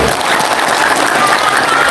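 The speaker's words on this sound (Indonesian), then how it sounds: "Boleh tepuk tangan dulu semuanya di sini." Audience applause at a rally of market traders backing a presidential candidate, a dense, steady wash of clapping from a large crowd that stays loud and even throughout.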